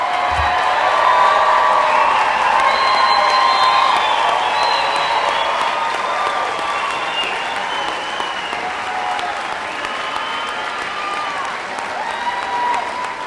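Graduation audience at Adams State University's undergraduate spring commencement applauding and cheering together, a dense, sustained wash of clapping with whoops and shouts layered over it, loud and steady throughout.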